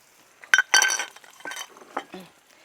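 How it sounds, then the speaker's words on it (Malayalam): Sliced onions and green chillies tipped into a pan of butter, with a few sharp metallic clinks and scraping stirs against the pan, some faint sizzle underneath, close and fairly loud. "ഇനി ഈ സമയത്ത് നമുക്ക് രണ്ട് വലിയ ഉള്ളി അരിഞ്ഞത് ഇട്ട് കൊടുക്കുക"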